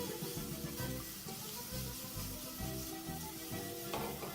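Shrimp with dry spices sizzle steadily in a frying pan, a continuous close crackle and hiss with faint scraping of tossing and stirring underneath.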